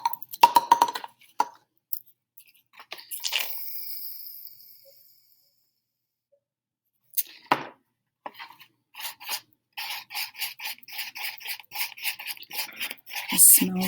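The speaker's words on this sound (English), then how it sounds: "I'll mix in my shaving cream." Glue and shaving cream being stirred together in a container, scattered soft scraping and squelching bursts with pauses, then a faster run of rhythmic rasping strokes, close and fairly quiet.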